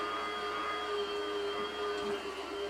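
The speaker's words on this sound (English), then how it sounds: "now he's going to go to his grinder. And, watch how fast this goes" An electric meat grinder hums steadily as it grinds wild boar and venison for sausage, a constant close motor whine with faint tonal overtones and no talk.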